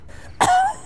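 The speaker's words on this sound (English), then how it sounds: "Well, I think I still have my cough." Big Bird, the Sesame Street character, gives one short, close cough that rises into a rough throaty rasp and a brief tonal whoop before trailing off.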